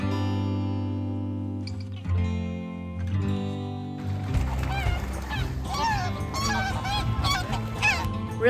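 A flock of geese honks in Rüdesheim on the Rhine, with repeated loud, overlapping calls building after a steady tonal hum in the opening seconds.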